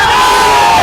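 A dense protest crowd in Jaipur roars and shouts all at once, loud and close, a continuous wall of raised voices.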